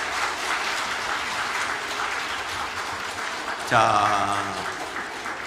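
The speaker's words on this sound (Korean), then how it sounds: "여러분 모두 박수로 환영해 주시기 바랍니다." A church congregation at a Sunday service applauding children just baptised, a steady mid-distance wash of many hands clapping, then a voice speaking briefly over it near the end.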